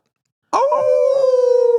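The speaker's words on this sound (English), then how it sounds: "Oh, that was a good howl." A single long howl rises suddenly and holds a steady, wavering tone, loud and close, with no talk over it.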